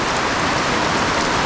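Heavy rain pours down steadily and close by, a dense, even hiss of drops on surfaces with no voices over it.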